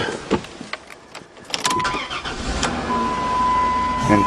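A 2002 Dodge Caravan minivan engine cranks in several short bursts, then starts and keeps running with a steady close hum.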